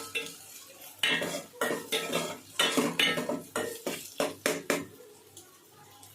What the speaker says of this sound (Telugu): పచ్చివాసన అంతా పోయిన దాకా చక్కగా ఆయిల్లో ఫ్రై చేసుకోవాలి